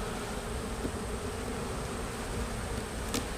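A honeybee colony hums and buzzes steadily during an inspection of a single brood box in an unhealthy hive, a dense, continuous close drone with no talking.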